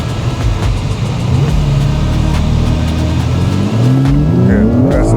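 BMW engine revving hard while drifting, heard from inside the car, a loud sustained roar with pitch climbing and falling as the throttle is worked, rising sharply near the end.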